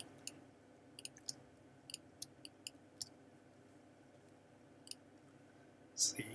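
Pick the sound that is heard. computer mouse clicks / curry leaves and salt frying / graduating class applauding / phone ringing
computer mouse clicks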